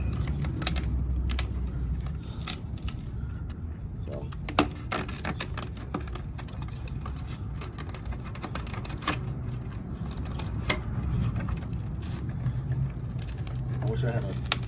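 Knife slicing into the inside of a T2 13-inch subwoofer during a teardown, a steady run of scraping and cutting clicks close by, with background hum and a voice speaking now and then.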